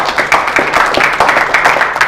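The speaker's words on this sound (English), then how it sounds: "My publisher is here, Chinga, please give him a round of applause." Brief applause from the audience at a book launch event, a few seconds of close, fairly loud clapping with an uneven rhythm.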